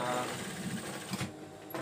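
A sewing machine runs a second seam stitching elastic onto a bed skirt, a faint quick mechanical whirr heard close by with talk over it.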